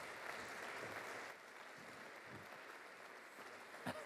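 Faint audience applause at the World Rail Festival 2018 opening session, a steady wash of clapping from a crowd heard at a distance over a few seconds.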